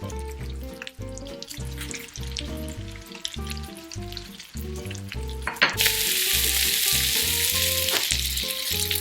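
Pork sisig crackles and sizzles loudly on a hot metal pan, with a dense spattering hiss that swells midway. Music plays underneath and no one speaks.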